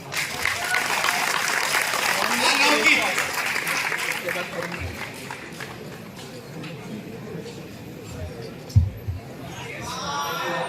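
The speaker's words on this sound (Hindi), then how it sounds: "थोड़ा ताली मारो यार।" Audience at a stand-up comedy show at NIT Rourkela claps steadily, a dense wash of applause from a crowd with scattered chatter, fading slightly toward the end.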